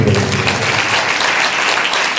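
A congregation claps together during a church sermon, producing a dense, steady wash of applause that fills the room without pause.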